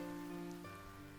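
Rain falling in the game Rain Marginal, a faint steady patter under a sustained tonal music drone, lasting about a second.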